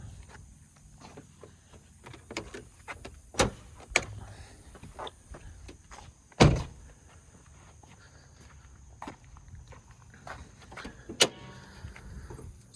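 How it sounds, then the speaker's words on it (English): The hood of an 80 series Land Cruiser fitted with a swapped 3-liter LM2 Duramax is released and lifted: a few sharp, separate metallic clunks and clicks spaced several seconds apart, close by, over faint shuffling and with no talking. "pop the hood here"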